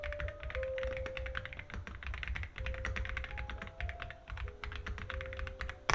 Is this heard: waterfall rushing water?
no